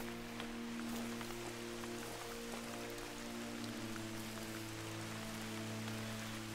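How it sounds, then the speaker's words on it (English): Steady rain falls in the open world of the video game Dragon's Dogma, a constant soft patter and hiss under a low droning game ambience, with no talk. "it's raining now, so that's a bummer"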